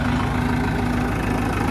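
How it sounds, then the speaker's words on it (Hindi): A farm tractor's diesel engine, freshly serviced, idles steadily up close with a low, even rumble and a faint rhythmic knock, with no voices over it. "हमारा ट्रैक्टर का साउंड पहले से बदल चुका है।"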